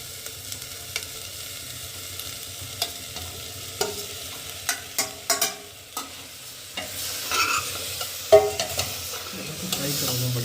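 Potato gravy fries in a new cooker while a spoon stirs it, scattered scraping taps over a faint sizzle, growing busier and louder toward the end, with no voices.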